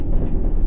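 A subway train in World of Subways 3 pulls away from Euston Square, a steady low rumble of wheels and motor close by, with no talk over it.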